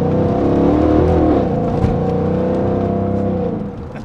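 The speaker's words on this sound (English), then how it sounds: "we can hear more of that exhaust" A 2007 Mercedes E63 AMG with a Stage 2 V8 and long tube headers, its exhaust droning loud and close under acceleration, a deep rumbling tone that holds steady, then eases off toward the end.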